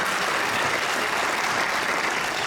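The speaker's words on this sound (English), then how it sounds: "Let's give all of our panelists one more round of applause" A dense, continuous roar of audience applause for panelists after a panel discussion fills the room at an even, loud level from start to finish.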